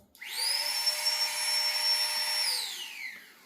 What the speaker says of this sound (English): This is the flex tail pump.